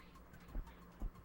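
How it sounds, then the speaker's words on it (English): Caged birds cooing in a PlayStation 1 game, two soft low coos about half a second apart, muffled and fairly quiet over a faint background hum. "that's those birds we kept hearing too"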